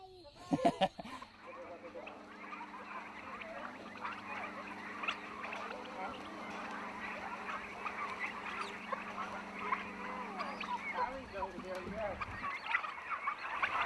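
A flock of free-range turkeys about six weeks into their growing cycle gobbles and chatters steadily at moderate distance. The dense bird noise runs throughout, after a brief sharp knock at the start.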